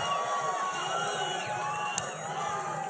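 A large rally crowd at a Donald Trump event in Las Vegas, Nevada, roars and cheers in a steady, dense wall of voices, with one brief sharp whistle cutting through near the end.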